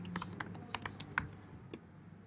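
Keys tapped on a computer keyboard while entering a search query, a quick run of distinct clicks in irregular bursts that thins out toward the end, close and fairly quiet with no talk.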